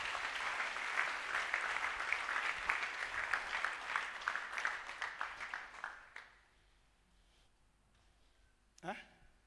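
A church congregation claps for the Lord in sustained, fairly loud applause that fades out after about six seconds, followed by near silence and a brief voice.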